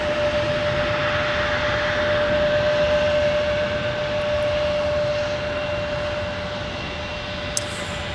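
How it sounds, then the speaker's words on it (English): A former Northwest Airlines Airbus A320 at Minneapolis airport in winter runs its jet engines in a loud, steady roar with a constant whine, heard alone for several seconds before easing slightly near the end. "We're going to focus on the more prominent A320."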